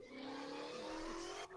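A car in a video game speeds past with a steady, strained engine drone and a faint tire squeal, fairly quiet and continuous, then cutting off abruptly near the end.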